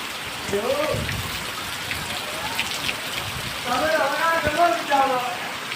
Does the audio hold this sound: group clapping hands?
no